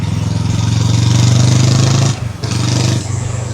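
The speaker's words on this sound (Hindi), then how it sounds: "इसका जो साउंड है एग्जॉस्ट का वो बिल्कुल म्यूजिक की तरह लगता है।" A Brixton Crossfire 500 XC with a 486cc parallel-twin engine runs close and loud, a throbbing low exhaust pulse that holds steady, dips briefly around the middle, then picks back up.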